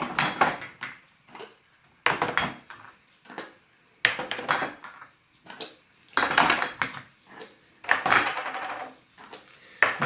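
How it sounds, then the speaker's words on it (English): Plastic lids pried and popped off a row of yoghurt jars one after another, each a bright clattery knock with rattling plastic, in irregular bursts close by with short quiet gaps between. "you've got to take all the lids off"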